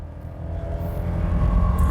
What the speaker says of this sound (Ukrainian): Спробуємо, як саме цей Форестер їде від 0 до сотні